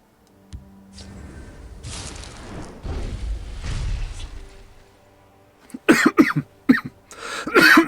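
A person coughs in a rough, breathy run, then several sharp, loud coughs burst out close to the microphone near the end, with quieter throat noises in between.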